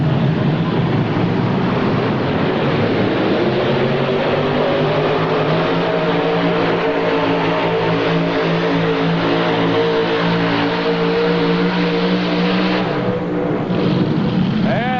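Tractor pull engines roaring at the 1986 TNT Indy Super Pull, a continuous, very loud, close engine howl with rising and shifting pitch as the machines strain under load, with no talk heard.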